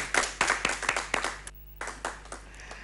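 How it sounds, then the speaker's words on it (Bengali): A quiz show studio audience breaks into loud clapping, a burst of sharp hand claps that stops briefly and then resumes with a few scattered, slower claps. "জোরে হাততালি হয়ে যায়।"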